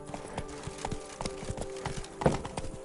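Roach the horse in The Witcher 3 trots along, hooves clip-clopping in a steady, even rhythm, moderately close and alone over soft ambient background.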